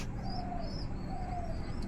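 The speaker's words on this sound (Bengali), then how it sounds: "আমার আরও যে কবুতরগুলো রয়েছে, এটাও ডিম পারবে।" Pigeons in a loft coo softly in two drawn-out low calls over a steady background hiss, fairly faint and close.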